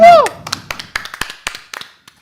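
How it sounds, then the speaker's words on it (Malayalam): Audience applause opens a roast event, with scattered, uneven claps that come as a sparse patter and thin out over about two seconds, following a brief spoken word at the start. "ഗൈസ് ഒരു കൈയടി പ്ലീസ്"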